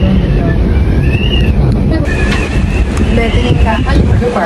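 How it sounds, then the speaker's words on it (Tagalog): Strong wind buffeting a cable car in Taiwan, loud rumbling gusts and microphone wind noise, with people talking over it. "Ang lakas ng hangin."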